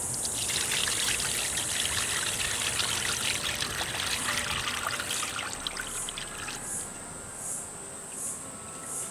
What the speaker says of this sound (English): pour in the syrup.